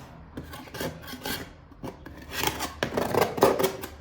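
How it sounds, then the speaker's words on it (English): A hand scraper rasps paint stripper off a surface in a run of repeated rough scraping strokes, close and fairly loud, growing heavier toward the end, in an abandoned Sicilian palazzo. "putting some coats on, letting it sit, scraping it off"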